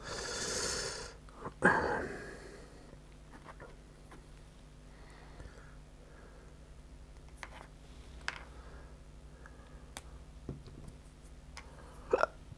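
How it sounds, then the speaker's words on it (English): A single sharp hiccup from a man working at a hobby bench, followed by quiet room noise with faint clicks and small handling sounds, no talking. "Pardon me, got hiccups now."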